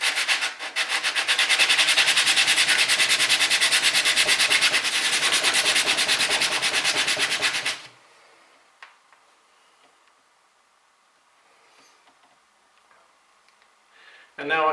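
A chisel blade's back being flattened on abrasive paper with plenty of pressure gives a loud, steady, rhythmic back-and-forth rasping for several seconds, then stops abruptly and is followed by near-quiet with faint handling noises.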